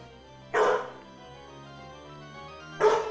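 Dog barking in the Legend of Zelda: Wind Waker video game, two short close barks about two seconds apart over a quiet musical background, with no talking.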